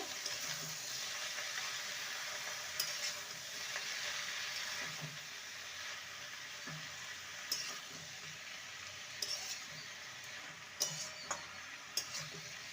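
Spinach and mixed vegetables being stirred in a frying pan, with a steady soft sizzle and repeated scraping and clicking strokes of a utensil against the pan, close and alone.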